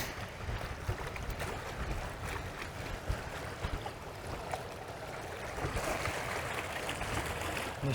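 Steady wind gusting across a microphone at a lakeside park on the Great Lakes, a broad continuous rush and rumble that swells slightly toward the end, with no speech.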